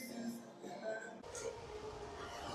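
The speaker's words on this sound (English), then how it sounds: "Who doesn't like trains, right? Especially when they're in a tunnel." A train rumbles through the Brockville railway tunnel in a steady, close, broadband roar that abruptly brightens and changes tone midway through.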